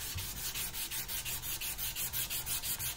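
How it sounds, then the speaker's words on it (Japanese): A scraper drawn along the grain of a guitar's wooden body during refinishing, steady rhythmic strokes of about four per second, close and even, with no talking. "最後、こうやって、木目に沿って、縦方向に削ってます。"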